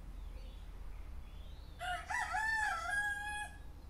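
A rooster crows once, a long rising and falling cock-a-doodle-doo that rings out clearly over a quiet background hum.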